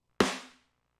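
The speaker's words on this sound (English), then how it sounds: "We're gonna do some rim shots, which is where you hit the rim and the head of the snare at the same time." A single snare drum rim shot, stick striking rim and head together, gives one sharp, close crack that rings out briefly and decays within about half a second, alone.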